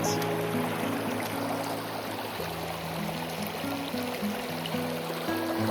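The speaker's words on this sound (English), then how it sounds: "It's the Dolores River in southwest Colorado." The Dolores River in southwest Colorado flows steadily, a soft, even wash of moving water heard close by, with faint tonal hums beneath and no talk.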